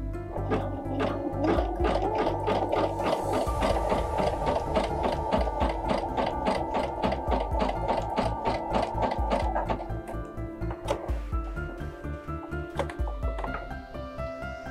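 A sewing machine stitches fabric with a steady, rapid mechanical needle rhythm for about ten seconds, then slows into slower, uneven stitching bursts near and loud, with no talking.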